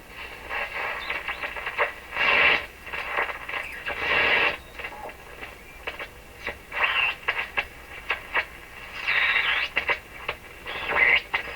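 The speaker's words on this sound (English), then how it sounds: "It's all the classic radio sounds." Rogers 11RA651 shortwave radio tuning: bursts of hiss and static sweeping in and out, with warbling whistles and fragments of signal as the dial moves.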